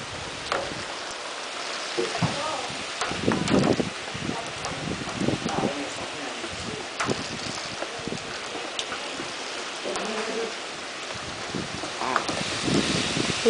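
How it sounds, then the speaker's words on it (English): High storm winds gust and roar through foliage alongside sideways rain, a rough, fluctuating rush with rustling bursts that rises and falls throughout. "Ooh, still got some wind left."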